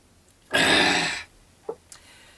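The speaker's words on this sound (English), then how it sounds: "I had to clear my throat for that one." A single loud, harsh throat clearing lasting under a second, followed by a couple of faint short sounds and quiet.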